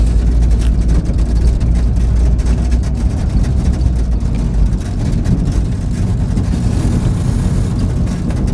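A car jolting slowly along a potholed, unpaved road with the pavement long gone, its engine rumbling low and steady throughout with constant bumps and rattles close to the microphone.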